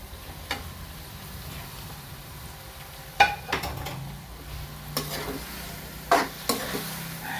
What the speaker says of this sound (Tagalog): Ilagay na natin yung ating talong.